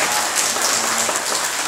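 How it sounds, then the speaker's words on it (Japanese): An audience claps in sustained, dense applause after a live monkfish butchering demonstration, a steady even patter throughout the brief moment with no voices. "盛大な拍手の方をお願いします"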